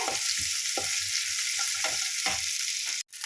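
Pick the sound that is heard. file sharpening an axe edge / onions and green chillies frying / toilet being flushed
onions and green chillies frying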